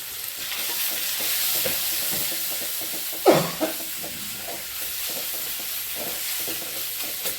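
Onions and tomatoes sauté in a hot pan with curry leaves and spice powder, giving a continuous close sizzle. A loud scrape or clank of the spoon stands out in the middle, and no one speaks.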